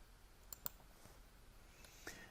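A couple of faint, isolated computer mouse clicks close by, soft and quiet in a still room, spaced about a second and a half apart.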